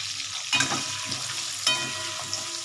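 Hilsa fish pieces frying in a pan of hot oil give a steady close sizzle with a few louder spitting bursts and stirring scrapes, no talk.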